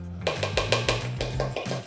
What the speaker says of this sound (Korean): 그냥 휘퍼로 가볍게 섞어주세요